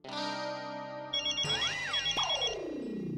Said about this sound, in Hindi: अब किसका फोन है?